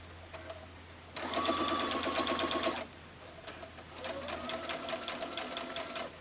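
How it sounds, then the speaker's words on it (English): A sewing machine runs in two bursts of rapid, even stitching on fabric strips for a table runner, a steady mechanical whir with a short pause between runs. "I'm just going to line this up at the sewing machine."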